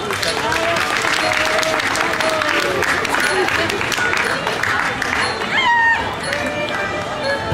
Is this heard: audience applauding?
yes